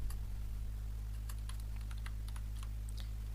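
Computer keyboard keys tapped in short irregular bursts of clicks over a steady low electrical hum, quiet and close, with no one speaking.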